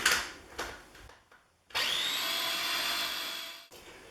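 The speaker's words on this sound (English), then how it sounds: "lid on, whiz it up." A food processor blends roasted garlic hummus with olive oil: a few short clunks and pulses, then a sharp start into a loud, steady motor whir that runs for about two seconds before cutting off.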